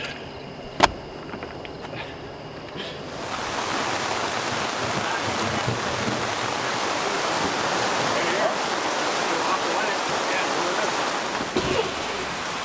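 Heavy rain, a downpour heard from inside a camper, sets in after a few seconds and becomes a steady, loud hiss and roar that continues to the end.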